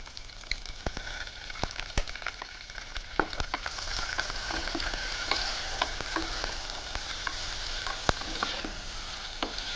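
Onions and tomato fry in a pan with a steady sizzle, broken by scattered crackles and small pops.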